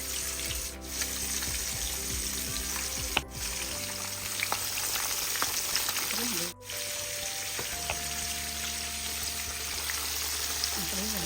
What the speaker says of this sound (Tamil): இதை அப்படியே எண்ணெயில் வைக்கும்.